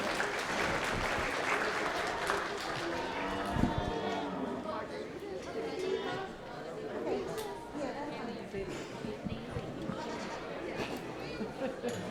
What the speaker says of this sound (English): Let's give all 7 of these kids a big round of applause on the way out.